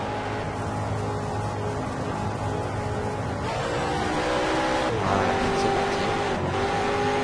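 Race car engine in the video game Need for Speed Shift, a steady mid-level drone with shifting revs and gear changes around the middle, under a brief spoken line in French.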